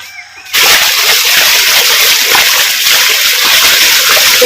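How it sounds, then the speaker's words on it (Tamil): Spinach greens being rinsed by hand in a vessel of water to wash off soil, steady close splashing and sloshing that starts abruptly after a brief quiet moment and continues loudly without speech. "இப்போ நம்ம அலசிக்குவோம் ஏன்னா க மண் வந்து கண்டிப்பாக இருக்கும் தண்ணியில் வந்து அலசிக்கிறோம்"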